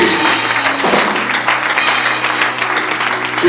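Congregation clapping during a Sunday church service, a dense continuous burst of many hands applauding together over a low sustained background tone, fairly loud and close.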